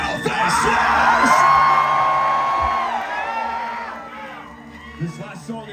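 A heavy-music concert crowd at a live show in Orlando, Florida cheers, whoops and yells loudly for several seconds, then the roar fades. Scattered shouts follow, and someone talks faintly near the end.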